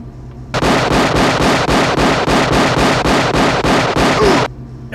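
Rapid gunfire from the 1993 action movie Hard Target rings out as a dense, loud burst of about a dozen evenly spaced shots over roughly four seconds, then stops abruptly.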